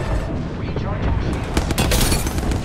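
Rapid gunfire in the Apex Legends video game, a dense burst of shots bunched into loud cracks in the second half over a constant roar of game noise, with a player calling out over it.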